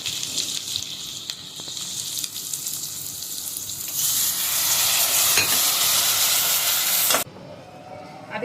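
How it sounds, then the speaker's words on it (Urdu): Spices being stir-fried in a pan for a bhindi gosht curry, a soft sizzle with scraping that swells into a loud hissing steam burst when a spoonful or two of water goes in, then cuts off sharply. "ہم اس کو مسالے ڈال کے بھونیں گے اور اس کے اندر 1-2 چمچ پانی ڈالیں گے تاکہ یہ مسالے جلیں نہیں"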